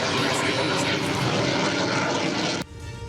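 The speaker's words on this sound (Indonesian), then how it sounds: "Dua jenis pesawat, yakni Super Tucano dan F-16, meluncur rendah, menyentuh aspal tol, dan berhasil melakukan pendaratan dengan presisi." F-16 and Super Tucano military aircraft fly low over a Lampung toll road used as an emergency runway, a loud broad engine roar that fills the clip and then cuts off abruptly near the end.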